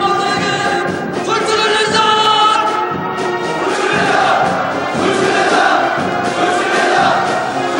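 A huge crowd of marchers roars continuous shouts of hatred and anger, a loud, sustained wall of massed voices swelling and chanting in unison without pause.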